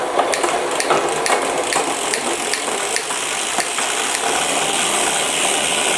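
An 11-speed drivetrain on a Scott Addict road bike clicks and whirs as gears are shifted, with steady chain rattle and a few sharp ticks from the derailleur running throughout.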